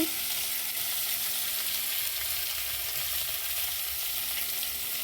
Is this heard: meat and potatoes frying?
yes